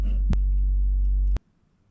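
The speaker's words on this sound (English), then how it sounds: "The only thing I can hear is my fridge." A household refrigerator runs with a steady low hum in a very quiet room, with two brief clicks, until the hum cuts off abruptly near the end and leaves near silence.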